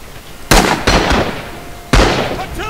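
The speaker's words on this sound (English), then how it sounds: "I think we got some artillery coming in" Artillery shells land in the Rising Storm war game, loud sharp blasts that each trail into a rumbling decay: one big hit, a smaller follow-up, then another heavy blast a second later.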